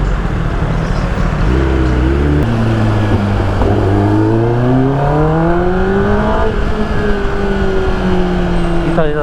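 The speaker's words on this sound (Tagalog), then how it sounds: "pero pagka bumomba ka, malakas pa rin siya. So sampulin natin isang bomba rito." Kawasaki ZX10R sportbike from 2024 with a Spark exhaust, blipped through sharp revs that climb and fall in rising engine tones, loud and close, with someone talking around it.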